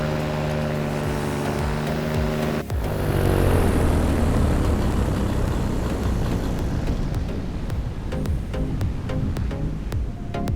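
A paramotor engine throttles up for takeoff, shifting from a steady buzzing drone into a loud, close, full-power propeller roar that holds and wavers slightly as it climbs away.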